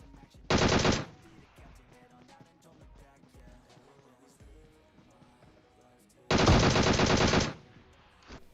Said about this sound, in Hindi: यहाँ पे गोली चलने की आवाज आ रही होती है